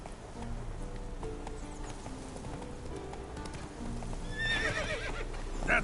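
A horse gallops and neighs in a PS4 video game, with rapid hoofbeats running continuously and a loud whinny rising near the end. No voices are heard.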